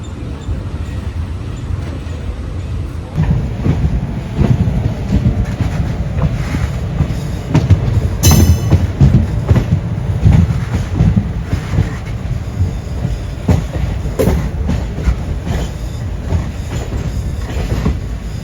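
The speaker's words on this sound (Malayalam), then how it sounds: "പാറശാലയിൽ നിന്നും നമ്മുടെ വണ്ടി പുറപ്പെട്ടിരിക്കുകയാണ്" A Nagercoil–Kollam passenger train departing Parassala runs steadily along the rails, with a continuous loud rumble of wheels, rhythmic clacking over joints and a brief metallic squeal partway through, with no talking.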